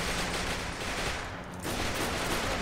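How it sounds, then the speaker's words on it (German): Flak anti-aircraft gun firing in the Heroes and Generals game, a dense continuous roar of rapid shots with a brief dip midway before resuming loudly. "Oh, schießt da einer mit dem Flak, ey."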